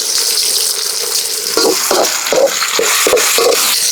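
Tomatoes sautéing in a pan for crab masala, a loud continuous sizzle and fry punctuated by a run of rhythmic scraping stir strokes in the second half.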